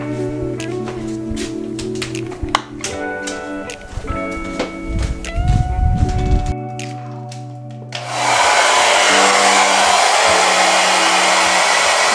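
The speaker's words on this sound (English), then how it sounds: "blow dry is done" Hair is blow-dried with a hair dryer after a Brazilian blowout. Scattered handling noises and rustling come first, then the dryer kicks in as a loud, steady, close airy roar that runs to the end.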